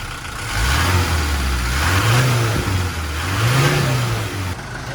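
A camper van engine revs in a steady rise and fall, climbing twice to higher pitch before settling, loud and close with no talking.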